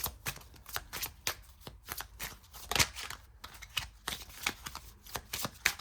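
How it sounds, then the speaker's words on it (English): Self-care oracle cards are shuffled by hand in a steady series of crisp riffling flicks and taps, close and fairly quiet. "lastly, I'm gonna pull some self-care cards for you"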